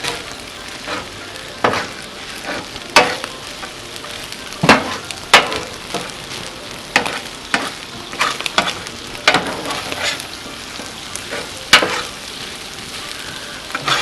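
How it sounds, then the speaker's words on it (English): Rice and minced garlic stir-fried on a hot Blackstone griddle: a steady close sizzle broken by frequent sharp scrapes and clacks of spatulas tossing the food, with no talking. "I'm also going to throw in some minced garlic. Mix that up good."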